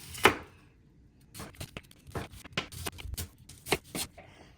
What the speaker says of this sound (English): Now we're going to thinly slice the onion.